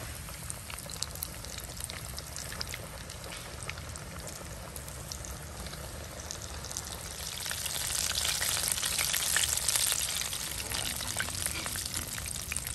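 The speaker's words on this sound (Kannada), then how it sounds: "ಮೀಡಿಯಂ ಫ್ಲೇಮಲ್ಲಿ ಫ್ರೈ ಮಾಡಬೇಕು." KFC style cauliflower deep-frying in hot oil over a medium flame, a steady dense sizzle that swells louder and busier partway through and holds there, with no voices.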